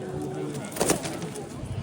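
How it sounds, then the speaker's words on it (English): A pigeon cooing on a Paris street, soft and fairly close, with low, throaty coos over steady outdoor street noise and faint background voices. "That's a lucky bird."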